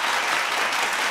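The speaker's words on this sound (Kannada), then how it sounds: "ಅವರಿಗೆ ಕನ್ನಡಾಭಿಮಾನದ ಚಪ್ಪಾಳೆ" A studio audience at a Kannada comedy show bursts into dense, steady clapping, loud and close, filling the whole moment with no voices over it.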